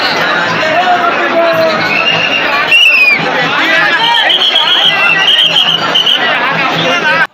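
A dense crowd of pilgrims fills the Shravan fair at the Deoghar temple with a steady, loud babble of voices. Someone talks close to the mic over the noise throughout.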